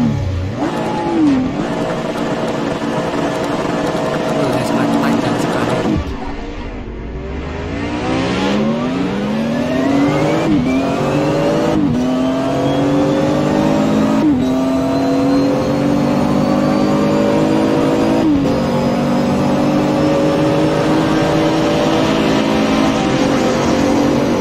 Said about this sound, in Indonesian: Kita mau jalan lagi game balap. Masih pakai Nismo GTR.